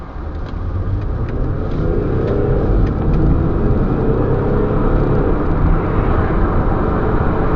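Audi A6 car accelerating hard from standstill to 60, a steady loud engine roar with road and wind noise building over several seconds, heard from inside the car with no talking.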